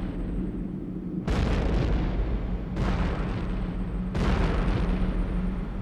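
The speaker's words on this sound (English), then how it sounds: "There is an explosion that would make the explosion of a nuclear weapon seem tame." Impact explosion of the fragmented comet Shoemaker-Levy 9 striking Jupiter, rendered as three loud, deep rumbling blasts spaced roughly a second and a half apart, each sudden and lingering.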